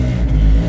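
A brief, loud, close-up rev of a Piaggio Ape three-wheeler's small engine, a low throbbing drone that holds for under a second, with no talk.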